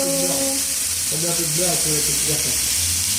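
Black pudding (boudin noir) frying in a pan: a steady, close sizzle that runs the whole way under a voice talking.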